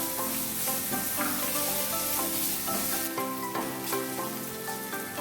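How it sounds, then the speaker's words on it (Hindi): Onion sautéing in oil in a pan, a steady close sizzle with light stirring, and no speech. "इसमें प्याज ऐड करूंगी और इसे जस्ट सौदे करना है, ज़्यादा नहीं पकाना"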